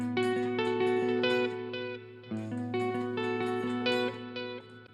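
Guitar notes played through the digital delay of a Donner Arena 2000 multi-effects processor ring out clearly, each note trailed by repeating echoes in a steady, rhythmic phrase with no talking.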